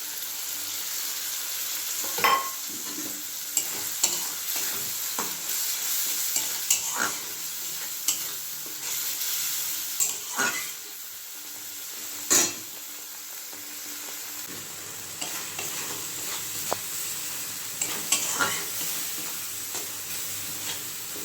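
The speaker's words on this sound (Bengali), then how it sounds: "এই রেসিপিটার জন্য কিন্তু মশলাটা কিন্তু খুব ভালোভাবে কষিয়ে নিতে হবে" Spice paste with ground cashew paste frying and being stirred in a pan for a vegetarian cabbage dish, a steady soft sizzle broken by repeated scraping strokes of the spoon, close and clear with no talking.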